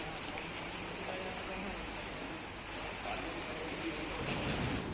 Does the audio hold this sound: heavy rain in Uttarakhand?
yes